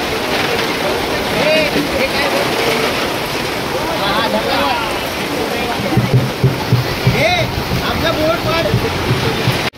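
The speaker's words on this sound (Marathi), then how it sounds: "जोरदार पाऊस, पाणी येते सगळं आतमध्ये" Heavy rain pours down hard enough that water gets inside, making a dense, continuous roaring wash throughout, with voices talking faintly underneath.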